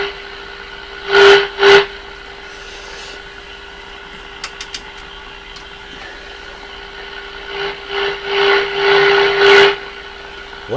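Sony TR712 transistor radio under repair putting out a steady tone with a hum, broken by bursts of hissy static and a few clicks, loud and close.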